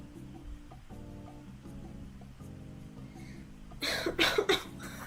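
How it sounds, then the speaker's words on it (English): A person coughs in a short, rough burst near the end, loud and close over a faint background of quiet tones. "And I'm also coughing a little bit"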